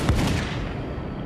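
A heavy boom of cannon and musket fire from Spanish conquistadors in battle against the Aztecs, a dense blast that rumbles on as a thick, roaring wash of noise.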